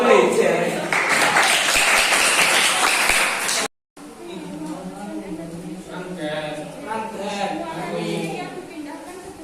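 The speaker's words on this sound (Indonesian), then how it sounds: "Tepuk tangan untuk nomor 1." Classroom applause during a university teaching demonstration, a loud burst of clapping for nearly four seconds, then a brief cut and murmuring voices with faint scattered claps.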